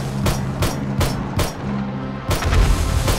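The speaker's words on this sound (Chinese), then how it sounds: "要一起开枪，还没开枪就炸死了" Explosions and gunfire in the survival video game 7 Days to Die sound as a quick series of sharp booming blasts. About five hits land within three seconds, over a low steady hum.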